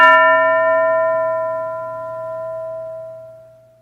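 A single bell strikes once, clear and ringing, its tone fading slowly over a few seconds with no other sound.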